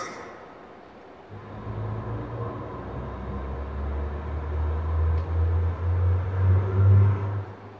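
Low engine drone inside a car rises after a quiet start, a smooth rumble swelling gradually during acceleration, no talking.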